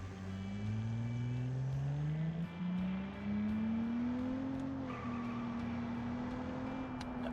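A car in a video game with a 2.7 engine, 144 horsepower and a manual transmission accelerates hard, its engine note climbing steadily in pitch, dipping briefly at a gear change, then rising again, loud and close.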